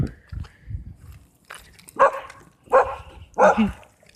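A dog barks three times close by, evenly spaced, after some quieter whines and rustling at the start.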